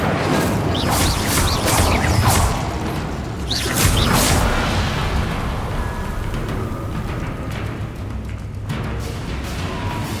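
An Incendio fire spell cast during a boss fight against Solomon Sallow in Hogwarts Legacy, loud roaring bursts of flame and whooshing blasts layered with game effects, continuous and dense throughout.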